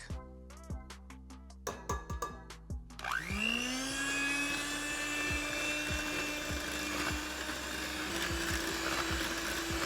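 An electric mixer whirs steadily through cinnamon muffin batter with buttermilk, starting after a few clunks and taps and then running as a loud, even drone with faint knocks against the bowl.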